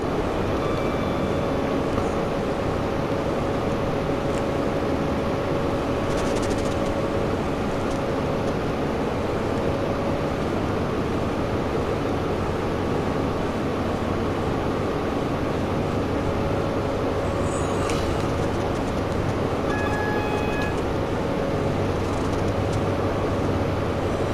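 Train pulling at full throttle in Train Sim World in the rain, a steady loud rumbling drone with a sustained tonal hum and a few faint clicks and squeals over it, no one talking.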